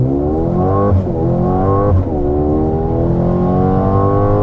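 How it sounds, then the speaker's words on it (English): A 2021 Mercedes-AMG GLA 35 launches using race launch control, engine revving hard and accelerating, pitch climbing then dropping briefly twice as gears shift, loud and close with a continuous roar. "Now you do have a race launch control."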